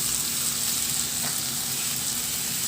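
Chopped onion and tomato sautéing in a hot pan make a loud, steady, close sizzle that continues evenly with no speech.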